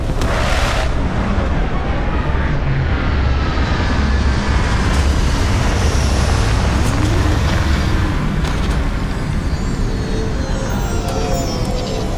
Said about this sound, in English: Landing site locked. Take us in.